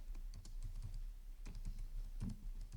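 C code is typed on a computer keyboard in quick, uneven bursts of close clicking keystrokes with brief pauses between them.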